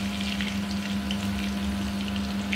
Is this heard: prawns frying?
yes